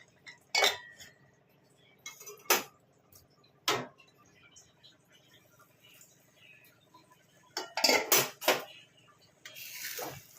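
A metal lid goes onto a pot of sweet broken-wheat dalia cooked with jaggery, giving several sharp clinks and clatters between quiet stretches.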